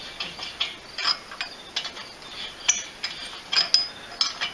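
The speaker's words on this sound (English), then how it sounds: "I'm just chasing the threads with the old nut, getting the crap out of it, and then backing off and letting it fall out." A wrench turns an old nut down a cylinder head stud on a VW trike engine, chasing grime out of the threads. Faint, irregular metallic clicks and ratcheting ticks come in short bursts with quiet pauses between them.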